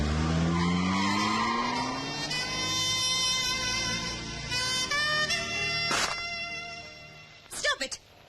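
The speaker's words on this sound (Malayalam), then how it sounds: "ഡ്രൈവർ, വണ്ടി എടുക്കൂ" A car pulls away in a Malayalam film comedy scene, with rising engine whine and tire skidding tones, then a sharp squeal and thumps near the end, under speech and other film sound.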